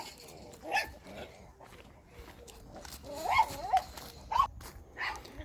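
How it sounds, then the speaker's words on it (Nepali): Dogs in a rural Korean village bark in a few sharp bursts at moderate distance, mixed with softer whines and yips between barks in a quiet outdoor setting. "यहाँनिर कुकुर मामाहरू छन्।"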